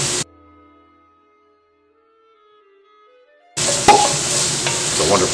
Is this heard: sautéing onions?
yes